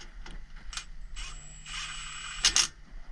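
A ratchet tightens a brake bolt during a brake job on an SVT Lightning truck, giving quick close clicking pawl sounds and a few brief metallic turns in a quiet garage.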